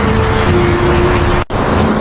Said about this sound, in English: This is a car.